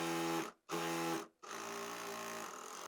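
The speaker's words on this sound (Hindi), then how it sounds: "अब सिलाई लगाएंगे।" A sewing machine stitches a boat-neck kurti in three steady, fast whirring runs, each broken by a brief pause. The sound is close and moderately quiet, with no voices.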